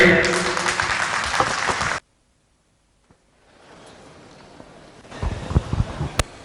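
At a stage event, an audience breaks into loud, dense applause after a performance for about two seconds. It cuts off abruptly, followed by quiet hiss and then louder rustling and voices.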